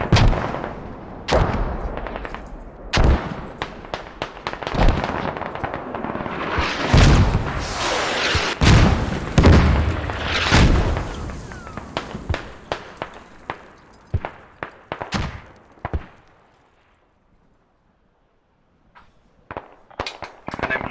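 Mortar fire and explosions in a military shooter game, a dense run of loud booms and sharp gunshot cracks that thin into scattered blasts, with brief silence near the end and a voice talking over parts of it.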